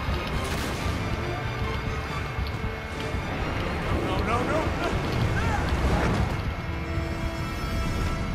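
A sinking ship in Uncharted 3 fills the scene with loud crashing, creaking mechanisms, rushing water and wind, a dense, turbulent din with a voice heard over parts of it.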